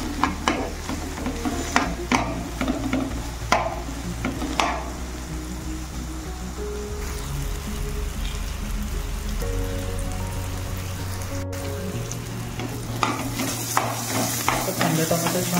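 Onion and tomato sauté in a pan with a continuous crackling sizzle, spoon stirs and scrapes scattered throughout, and a low steady hum beneath; nobody talks.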